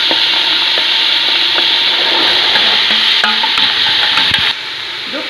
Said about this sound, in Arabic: نطلبو الجلبان.